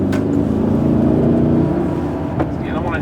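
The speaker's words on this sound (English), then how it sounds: "just a great acceleration for a car this large" A 2011 Porsche Cayenne Turbo with a twin-turbo V8 pulls hard in sport mode, a dense, steady engine roar heard from inside the cabin with a voice talking over it.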